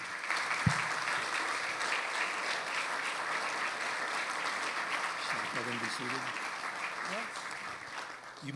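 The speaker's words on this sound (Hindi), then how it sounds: "खुदावंद यीशु मसीह के लिए जोरदार तालियां बजाएंगे।" Loud congregational applause fills a church service during a Sunday sermon, a steady wash of many hands clapping throughout, with a voice briefly heard speaking near the end.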